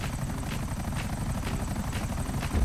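A helicopter in GTA 5 Online drones loudly and steadily throughout with a rhythmic rotor pulse. It sounds close, continuous and alone, with no talk over it.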